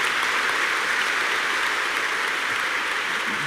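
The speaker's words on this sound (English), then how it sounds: "Please, a round of applause for these two leadership women." Steady, dense applause from a large audience at a gender-equality summit, loud and sustained throughout with no talk over it.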